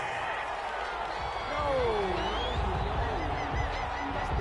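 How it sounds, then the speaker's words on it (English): Football stadium crowd booing a penalty flag on third down, a broad sustained roar of disapproval that swells midway and stays loud throughout, with voices mixed into the crowd noise. "Well, the crowd doesn't like that."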